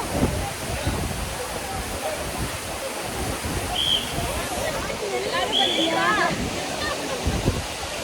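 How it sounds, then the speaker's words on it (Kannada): Abbey Falls waterfall pours in a steady, dense rush of water throughout, with voices faintly audible under the roar. "ಮುಗೀತು ಎಬ್ಬೆ ಫಾಲ್ಸ್ ಇಲ್ಲಿಗೆ"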